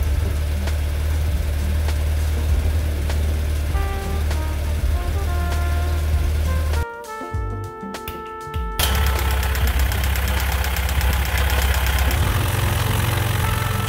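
A BMW 1150 GS motorcycle engine idles with a steady low rumble and faint repetitive knocking, briefly dipping in the middle before resuming.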